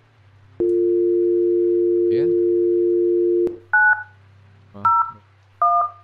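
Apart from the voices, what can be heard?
telephone dialing in the video game The Guest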